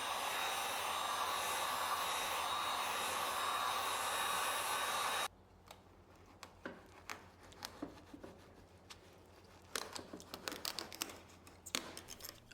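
A heat gun blows with a steady, loud whoosh for about five seconds while warming the trim on a 2015+ Mercedes W205 C-Class sedan, then cuts off, leaving scattered crinkling and handling sounds.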